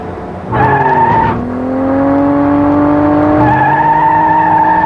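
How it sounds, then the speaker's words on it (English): Indy car engine sound from a racing simulator ride, a loud, sustained high-pitched whine that holds a steady pitch, dips briefly, and then climbs again as the car shifts and accelerates. "Inside, I'm going to be driving an Indy car, which is a very fast racer."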